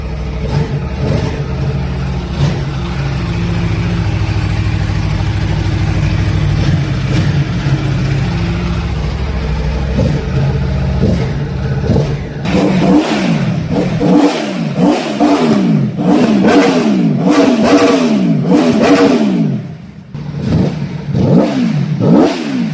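A Gilera motorcycle engine running after 25 years of standing, first idling steadily, then revved in repeated sharp loud bursts, close and alone, with a brief drop before the last revs.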